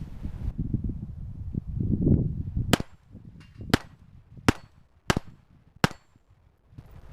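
A Glock 44 pistol fires .22 LR rounds in five sharp, evenly spaced reports, loud and close, following a stretch of rumbling wind and handling noise.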